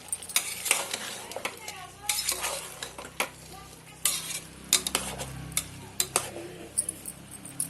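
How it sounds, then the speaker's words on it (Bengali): Chopped tomatoes, two of them, are stirred in a frying pan while cooking lentils. A spoon scrapes and clinks against the pan in uneven bursts over a soft sizzle, close and fairly quiet. "টমেটোর কুচো দিয়ে দিচ্ছি, দুটো টমেটো দিয়েছি"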